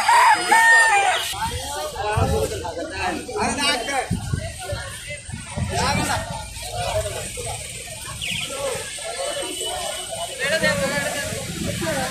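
Pakistani-breed chickens at Baburhat Bazar cluck and crow steadily beneath close, continuous conversation among market people.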